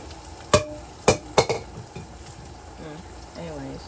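Ham and cheesy mac cooking in a pan with black pepper, three sharp pops and clanks close by over a low steady sizzle, followed by a brief voice near the end.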